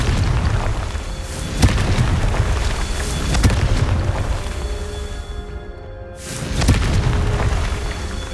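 Confringo spell blasts in the Hogwarts Legacy video game: loud, rumbling booms with sharp pops, then a sudden brief hush before another heavy burst.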